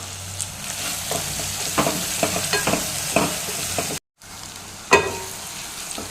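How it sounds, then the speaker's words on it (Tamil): Salted onions sautéing in a pan for a potato and peas gravy, a continuous sizzle broken by repeated scraping stirs and a sharper clatter near the end. "அதேமாதிரி வெங்காயமும் நல்லா அந்த மெரூன் கலரில் ஆகிற அளவுக்கு நம்ம வதக்கிக்கணும்."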